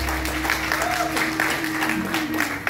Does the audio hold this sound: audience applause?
yes